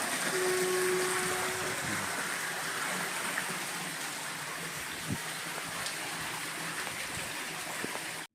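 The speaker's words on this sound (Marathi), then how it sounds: "हे आहे बघा कॅनलला जाणारं पाणी" Steady rushing water flows continuously along a canal, a broad even wash of noise with no voices, close by and fairly loud throughout.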